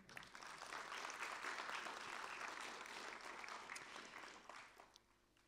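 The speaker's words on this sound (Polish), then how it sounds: "Dobrze, wielkie brawa zatem." An audience at a ministerial gala applauds in a full, sustained round of many hands clapping, steady in the middle and tapering off toward the end.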